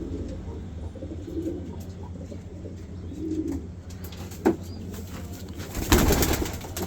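Racing pigeons, including checkers and blue bars in a loft, coo in low soft bursts through steady background noise, with a sharper clatter near the end.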